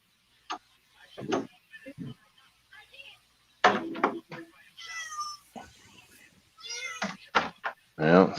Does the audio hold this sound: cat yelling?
yes